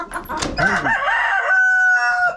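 A rooster crows loudly and close by, one long drawn-out call that rises, holds a strained note, then fades, with a brief cluck before it.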